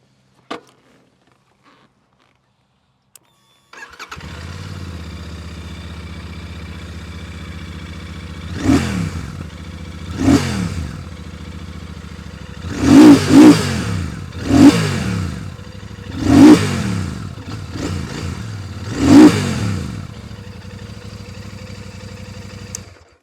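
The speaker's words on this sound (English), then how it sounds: "you want to listen to the exhaust as well, and let's fire this baby up." A Royal Enfield Super Meteor 650 twin-cylinder motorcycle cranks and fires into a steady idle, then its exhaust barks through a series of short, sharp throttle blips, each one rising and falling back to idle.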